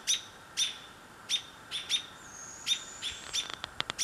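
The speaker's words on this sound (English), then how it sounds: "So there's three, there is three owls." Owls calling near a nest with owlets, a series of short high chirping calls repeating irregularly every half second or so, fairly faint over a quiet background.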